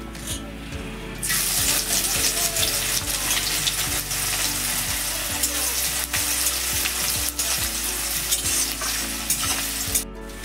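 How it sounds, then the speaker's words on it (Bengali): Chopped onions hit hot oil already holding cloves, cardamom and bay leaves for a potato curry, setting off a loud, steady sizzle that continues close up with stirring scrapes and faint background music. "আমি এখন দিয়ে দিচ্ছি পেঁয়াজ কুচি"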